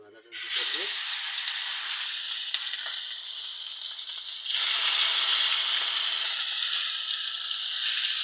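Marinated chicken pieces dropped into hot oil, a loud sizzle bursting in after a short quiet start and holding steady, then swelling louder midway as more meat goes in.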